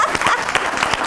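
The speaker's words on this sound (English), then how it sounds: "I want one solid round of applause for her since the last one was a little awkward" Audience applause for speaker Michelle Bui at a Lift Session talk in October 2018, a dense burst of many hands clapping, close and fairly loud for about a second.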